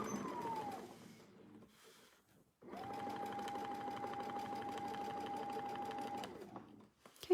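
Sewing machine stitching a quilt guided by a ruler template, a short run followed by a pause and then a longer steady whirring run, close and quiet.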